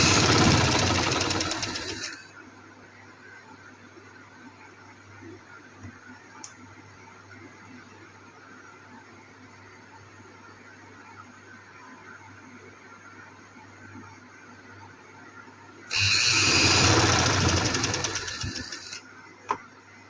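A sewing machine stitches dress fabric in two fast bursts, one at the start and one near the end, with a quiet stretch of faint room noise between.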